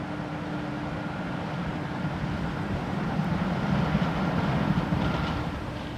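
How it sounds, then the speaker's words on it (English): A train passes through the Channel Tunnel, heard from the service tunnel as a low, steady rumble that swells slightly above the constant roar of ventilation fans. "the only evidence of a train going by is the slight increase in sound above the noise of the"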